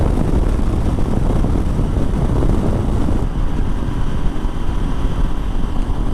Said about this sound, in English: That wind is just howling today. Holy, what a side wind.